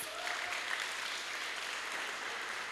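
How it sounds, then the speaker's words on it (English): Students at a school event applaud together in a room, a steady wash of clapping at moderate distance with no voices over it. "give a big round of applause to yourselves"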